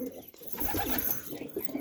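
Several pigeons coo softly and continuously close by, their low throaty calls overlapping without any talking.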